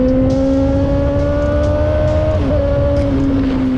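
A Suzuki GSX-S1000 motorcycle accelerates hard, its engine note rising steadily and loudly with a brief dip at a gear change, heard up close over strong wind rumble.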